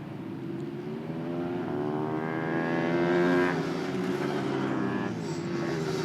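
MotoAmerica Mini Cup 190 motorcycles racing on track, a moderately distant engine whine rising in pitch as a bike accelerates past, steady and continuous with no talk over it.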